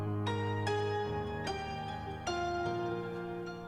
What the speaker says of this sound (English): So you hear that sort of echo back and forth is called a delay.